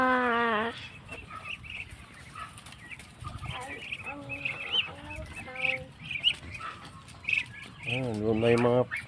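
Hens clucking and chirping close by on a tropical farm, soft irregular calls mixed with chick peeps, under someone talking casually nearby.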